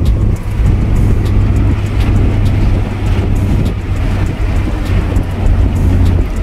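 A car with a B20 engine hums steadily from inside the cabin while driving, a constant low rumble with road and wind noise throughout.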